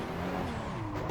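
RUF Yellowbird in Assetto Corsa on the Nordschleife, its engine holding a steady, loud drone with a slight rising whine over a short stretch and no talk.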